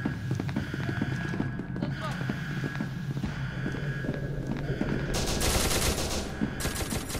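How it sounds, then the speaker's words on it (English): Gunfire rattles in the game SCP Secret Laboratory: dense bursts of rapid automatic shots run continuously, with a sharper, louder volley near the end. "They just started shooting at me, man."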